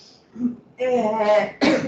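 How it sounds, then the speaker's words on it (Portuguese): A short throat-clearing allergic cough follows a faint murmur, then a second harsh burst, close and fairly loud. "Desculpa, mas eu tô com uma tosse que é alérgica"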